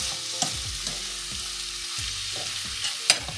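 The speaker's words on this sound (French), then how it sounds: "Je mélange bien et je vais laisser cuire jusqu'à ce que l'oignon soit bien" Ground beef and onion stirred in a pan with basil, a steady soft sizzle under scraping strokes of a spoon, a few sharper knocks against the pan, no voices.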